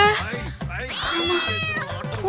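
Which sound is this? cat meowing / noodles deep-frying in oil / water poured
cat meowing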